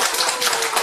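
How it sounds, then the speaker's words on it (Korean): Audience applause at a Korean humanities lecture concert, a brief dense wash of many hands clapping at once, steady and fairly loud throughout. "박수!"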